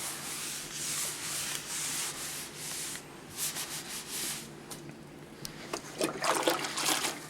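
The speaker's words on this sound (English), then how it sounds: "wiping it down with a sponge is a lot better than sanding" A damp sponge wiped across a repaired plaster wall gives repeated soft rubbing strokes, steady at first and then broken into shorter, wetter swishes with faint trickles of water.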